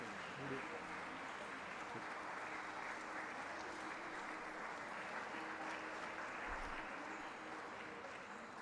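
Applause at a lecture series felicitation ceremony honoring a swami, continuous even clapping from a hall audience, quite faint and distant, with soft voices underneath.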